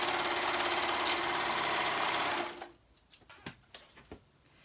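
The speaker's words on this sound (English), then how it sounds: "I'm going to go ahead and sew that raw edge" A sewing machine stitches a raw fabric edge on a women's garment for about two and a half seconds, then stops, followed by a few soft handling clicks and taps nearby.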